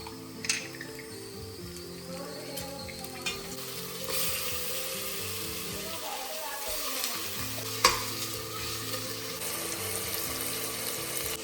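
Butter and spices sizzle in a pan for mutton haleem, a steady soft frying hiss with occasional stirring clinks up close.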